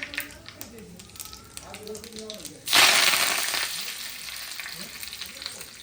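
Mustard seeds, cumin and curry leaves crackle and sizzle as they hit hot tempering oil, a sudden loud burst of spattering that settles into a steady hiss, with a voice talking before it.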